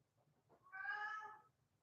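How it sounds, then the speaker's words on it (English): A cat gives one drawn-out meow in the middle of a quiet room, faint and fairly distant, rising and falling over about three quarters of a second with near silence before and after. "Stupid cat."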